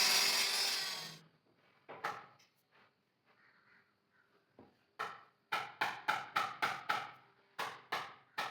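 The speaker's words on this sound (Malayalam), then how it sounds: "ഇനി അത് നമുക്ക് കട്ട് ചെയ്ത് അതിനകത്ത് ഫിക്സ് ചെയ്താൽ മതി" Wood being cut for carpentry handrails at a new job site: a loud opening burst, then scattered scrapes, then a quick run of about eight regular sawing strokes close by.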